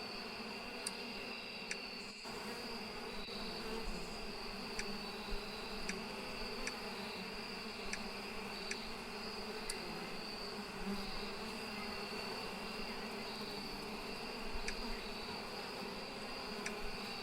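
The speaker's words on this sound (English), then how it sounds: "Domestic bees." Domestic bees buzzing in the beekeeping video game APICO, a continuous steady drone with faint regular clicking ticks, no voices, evenly sustained throughout.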